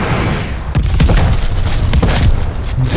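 Heavy gunfire in the shooter game Call of Duty: Vanguard, a series of loud, punchy shots and booming blasts with ringing tails, fired in quick irregular bursts over a low rumbling bed.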